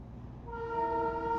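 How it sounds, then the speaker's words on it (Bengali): A toy train passes on a busy, jammed road heading from Siliguri toward the North Bengal hills, sounding a steady tonal horn that starts after a moment and holds to the end over a low rumble. "টয় ট্রেনটা যাচ্ছে"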